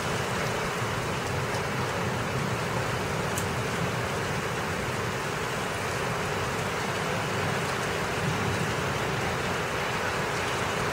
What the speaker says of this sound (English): we're going to get hit with hail